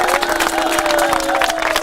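Supporters cheering as wrestlers enter the ring at a Softground wrestling event, a dense, steady roar of crowd noise with whistles and shouts throughout, loud and continuous.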